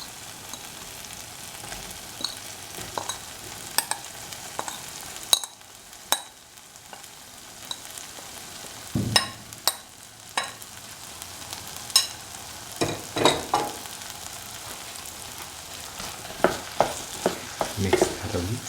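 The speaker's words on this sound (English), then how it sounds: "Now put in the soya chunk pieces that we fried earlier." Pre-fried soya chunk pieces stir-fried in a pan with egg, a steady sizzle running throughout with scattered sharp scrapes and clatters of the spatula, close up and without voices.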